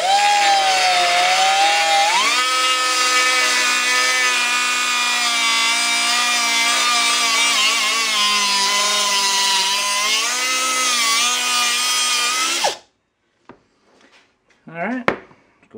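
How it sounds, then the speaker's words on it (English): Metal stock for a Datsun 521 ball joint modification is cut on a bandsaw: a loud, steady grinding whine with bright harmonics runs about 12 seconds, then stops abruptly, leaving faint shop clatter. "Go cut it on the bandsaw."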